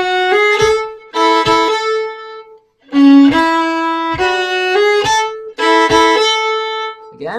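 A solo fiddle plays a Cape Breton tune in a workshop setting, giving a string of bowed notes with quick ornaments and accented strokes, close and clear, with a short pause partway through.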